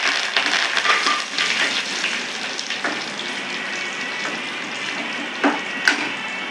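Curry leaves sizzle and crackle in hot oil for a Tirunelveli sambar tempering. A close, continuous frying hiss is broken by a few sharp pops near the end.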